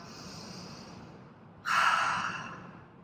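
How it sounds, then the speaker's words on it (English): A slow, audible breath during a guided yoga and mindful movement session, with a soft exhale rising suddenly and fading over about a second against a quiet room hiss. "just take a few deep breaths in and out"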